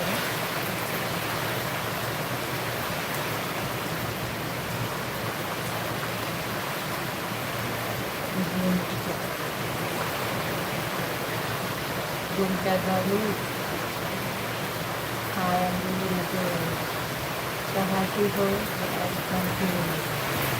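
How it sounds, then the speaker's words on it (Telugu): Heavy rain pouring down as a dense, steady wash of noise at moderate distance, with a few brief voices and tonal sounds breaking in over it. "చాలా వర్షం పడుతుంది మీరే చూడండి"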